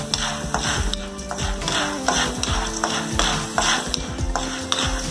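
Popcorn kernels are stirred in an iron kadai, with a spoon repeatedly scraping and rattling against the metal in an uneven rhythm over a soft frying hiss, close and fairly loud.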